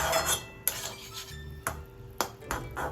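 A metal lid clanks onto a cooking pot with potatoes, beans and tomato inside, giving a few sharp, fairly quiet knocks and scrapes in a calm kitchen, no voices.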